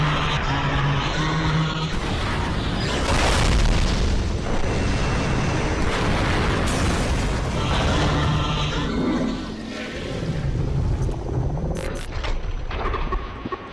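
Loud, sustained explosion booms from a Skibidi Toilet animation battle, deep rumbling and crackling debris, one blast rolling into the next almost without pause.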